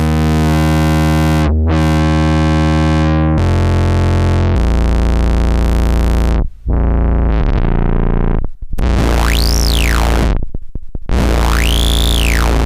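A harsh, distorted PWM Malevolent synthesizer plays loud buzzing tones through its drive with deep low end, then swooping high sweeps rise and fall, gritty and aggressive with no voices.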